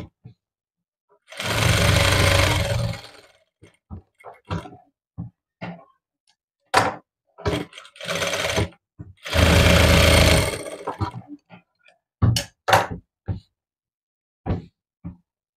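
Sewing machine stitching a two-layer girl's frock, heard in several short whirring bursts of varying length separated by pauses and small handling clicks, fairly close.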